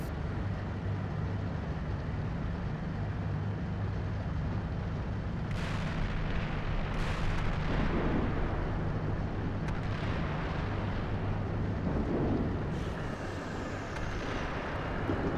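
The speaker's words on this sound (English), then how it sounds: "we have enemy mortar fire at center" Enemy mortar fire during a platoon's road movement, heard as a steady heavy rumble with a low engine drone, broken by several dull, distant thuds and muffled blasts spread across the stretch.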